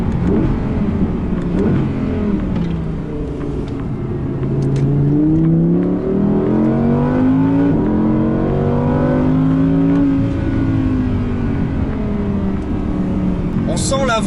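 An Audi R8 V10 Performance engine pulls hard and loud inside the cabin during a road test, the pitch rising and falling through gears over a steady roar while someone talks over it.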